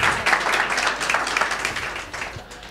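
An audience gives moderate, continuous applause at a gala event, the clapping fairly close and steady, fading slightly toward the end with a faint voice underneath.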